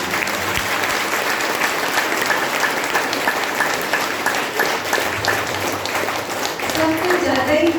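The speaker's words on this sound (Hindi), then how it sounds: "जोर से ताली बजाएं।" Audience at a talk on stress-free living and Rajyoga meditation gives loud, sustained applause, a dense even roar of clapping hands throughout, with a voice briefly heard near the end.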